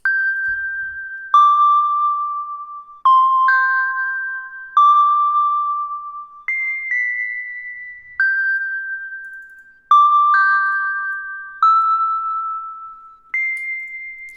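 Synth melody from the Repro 5 preset SY Road to Nowhere, played dry without effects: a slow sequence of clean, bell-like sustained notes that each fade out, with no voices.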